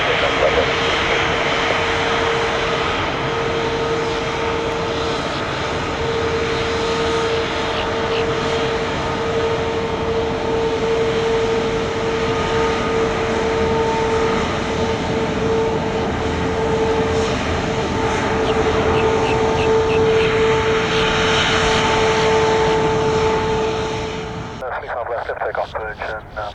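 Jet airliner taking off from runway 35 left at Orlando International Airport, a loud, continuous engine roar with a steady whine, heard close for over twenty seconds before cutting off abruptly at the end.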